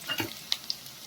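Onion and cabbage hitting hot oil in a pan, a soft sizzle with a few small crackles and pops, fairly quiet and brief, with no talking.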